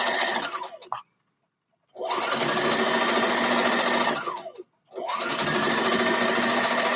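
A sewing machine stitches stretched fabric in fast, steady runs. There are three bursts of rapid mechanical whirring, separated by two short silent pauses, close and clear.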